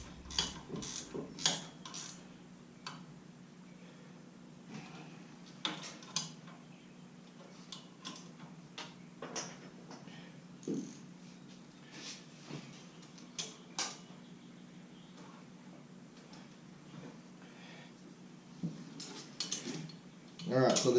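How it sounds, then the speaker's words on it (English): A ratcheting wrench tightens a bolt on a Turbo C10 pickup. It makes quiet, crisp bursts of rapid clicks that come and go over a faint background hum, with short pauses between strokes. "I love these ratcheting wrenches."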